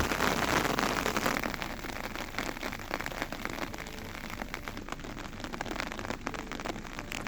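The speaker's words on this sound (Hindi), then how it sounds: "सुबह से जब से बारिश हुई है, बारिश ने रुकने का नाम नहीं लिया है।" Rain falls steadily in a thick wash of patter and crackling drops, continuous and fairly close.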